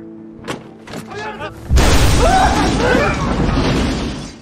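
A sudden loud blast cuts in after brief talk and sustains as a heavy rumbling roar with crackling debris.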